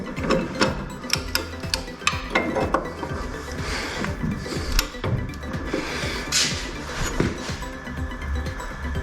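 A bolt on a torsion bar is tightened with a ratchet, giving a close run of quick clicking pawl sounds and metallic clinks in an uneven rhythm, with no talking.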